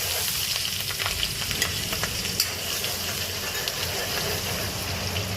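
Chillies sizzle and fry steadily in a hot pan for pav bhaji, a dense continuous crackling hiss with occasional stirring scrapes, close and even throughout without any talking.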